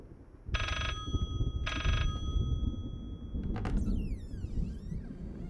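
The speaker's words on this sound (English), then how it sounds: "Pick up. Phone." Telephone ringing inside the Layers of Fear horror game: two clear, loud electronic ring bursts close together near the start, followed by a creaking, sliding sound and a rising warbling tone, with no talk.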